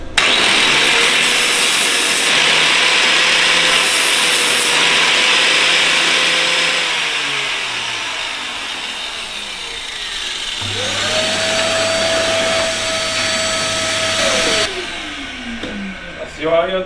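A grinding machine runs in a workshop during a tractor overhaul, its steady motorised whine rising and falling in pitch with a loud continuous drone, then spinning down near the end.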